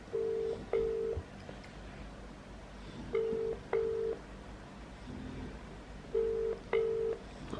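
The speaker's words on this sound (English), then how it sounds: "So I am going to call my agent without warning him and see what he has to say." Telephone keypad tones while calling an agent: three pairs of short beeping dial tones spaced evenly apart, quiet and somewhat distant over a low background hum.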